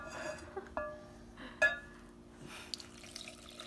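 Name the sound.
warm water poured into a sourdough starter jar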